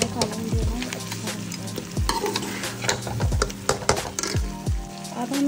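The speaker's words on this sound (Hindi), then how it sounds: "इसमें 1 चम्मच लाल मिर्च और 1/4 जो है ना वो इसमें हल्दी डाल के इसको अच्छी तरह से भून लेंगे।" Mutton karahi being fried with red chili and turmeric: a steady close sizzle broken by repeated scraping strokes of a spoon against the pan, roughly one every second or so.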